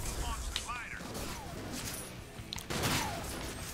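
Gunfire in the video game Sunset Overdrive, a dense rattle of shots and crashing impacts mixed with game effects and a voice talking over the action.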